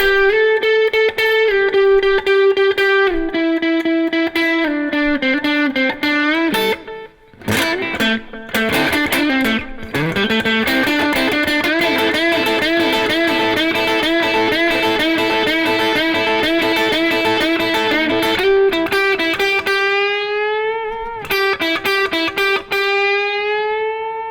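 A slow blues lick on electric guitar, with sustained, bending lead notes and slides over driven, effected tone, a busier passage in the middle, loud and continuous without voices.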